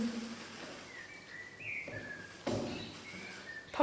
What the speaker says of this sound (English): that blackbird's giving us a wonderful tune